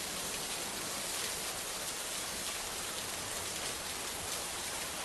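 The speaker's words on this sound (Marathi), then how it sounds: "बीड जिल्ह्यात पावसानं जोरदार हजेरी लावली आहे." Heavy rain in Beed district makes a steady, even hiss of downpour, fairly faint and unbroken throughout, with no voices.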